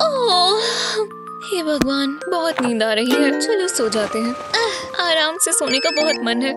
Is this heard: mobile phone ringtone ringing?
yes